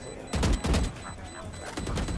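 Gunshots in a video game shootout, several loud close bursts in quick succession and then a few quieter follow-up shots.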